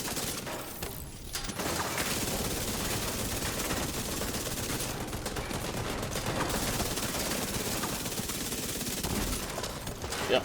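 Sustained automatic gunfire in The Division 2, a dense, loud, continuous burst of shots with brief shattering hits, no speech.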